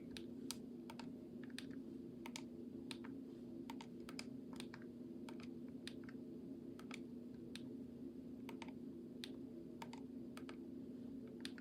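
Keys pressed on a calculator keypad while entering a 3 by 3 matrix, a steady run of light, separate clicks over a low background hum.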